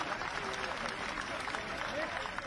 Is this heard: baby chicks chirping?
no